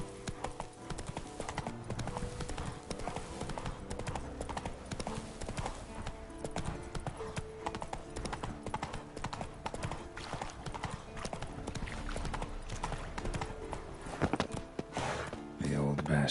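Roach, Geralt's horse in The Witcher 3 on PS5, gallops with quick, steady hoofbeats that drum close and clear over the whole stretch, with game music and ambience underneath.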